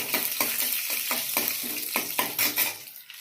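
Dried chilli and chana dal fry in hot oil, giving a steady crackling sizzle broken by regular scraping strokes of a stirring spoon.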